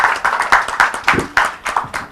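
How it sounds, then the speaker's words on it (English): Audience applause at a tea tasting session during a food festival, a steady run of close, crisp hand claps with a regular pulse, moderately loud and with no voices over it. "Please give her a big applause."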